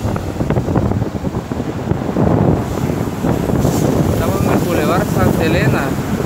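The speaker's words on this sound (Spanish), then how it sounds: "disculpe por el viento que se oye poco" Wind buffeting an outdoor microphone beside a boulevard in Santa Tecla, El Salvador: loud rumbling gusts with passing traffic and faint talk under it.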